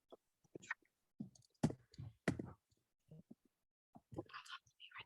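Computer keyboard typing during a Zoom committee meeting, heard as scattered quiet clicks and short bursts of keystrokes with faint voices and breaths in between.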